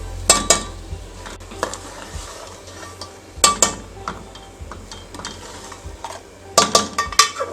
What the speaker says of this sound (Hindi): अब हम इसको आहिस्ता आहिस्ता से भूनेंगे ताकि ये कोफ्ते टूटे नहीं।